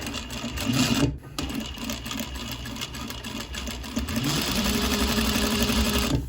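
Sewing machine stitches bias tape onto a bodice, butted against cording, for a Civil War skirt made from an Indian saree; a steady close whirring run with a brief pause near the start and a slight speed change late on.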